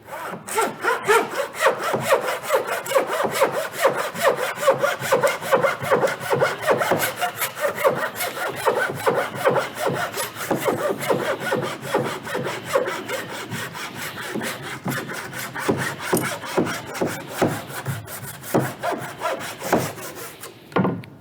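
Steady, rhythmic strokes of a hand saw cutting through wood, near and loud, continuing for a long stretch without speech.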